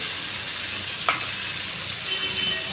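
Tomato sizzles steadily in hot oil in a pan, a dense continuous crackle with a brief sharper spit partway through and no talking.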